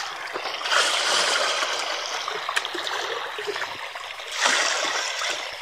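Water pours and splashes from a drum in a village, a steady broadband rush that swells louder twice, close by, with no talk.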